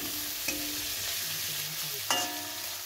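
Hilsa fish heads frying in oil in a wok, a close, even sizzle with a couple of sharp stirring clatters from a utensil, no talk.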